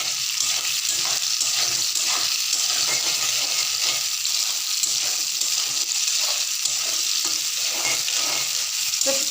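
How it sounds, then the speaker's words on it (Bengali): Coarsely cut onions fry in hot oil while being browned for a soybean curry, giving a constant loud sizzling hiss with spatula stirring and scraping through it, no voices. "ব্রাউন কালার হওয়া পর্যন্ত আমি ভাজতে থাকবো।"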